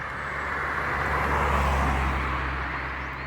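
A car passes at dawn on a hillside road, a steady broad roadway roar that swells gently in the middle and eases off, with no talk.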